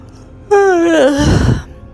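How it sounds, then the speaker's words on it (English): A voice gives one long, drawn-out yawn, tonal and rising at first, then sinking into a breathy exhale, close and clear. "Big Bear climbs in the hammock and yawns."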